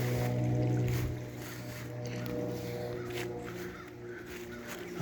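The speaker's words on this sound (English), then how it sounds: "And we have quite a bit of water here in the creek." A creek running high with water makes a steady, close rushing wash that stays fairly even throughout, with a low hum underneath.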